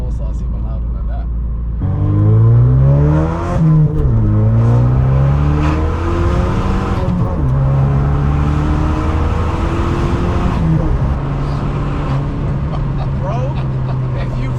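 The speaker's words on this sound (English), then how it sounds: "obviously you can hear the exhaust out get louder the higher up" A Vauxhall Astra J GTC VXR with a 335hp engine accelerates hard, its engine and exhaust rising loud and close through several revving pulls and gear changes, with voices under the engine noise.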